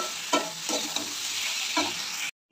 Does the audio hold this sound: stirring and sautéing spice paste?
yes